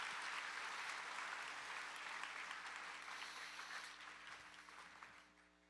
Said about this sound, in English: Let's give another round of applause to both of them.